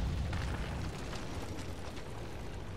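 Greek fire goes off in the Tomb Raider video game as a dense, roaring rumble of fire and debris, sustained and loud without any clear single blast.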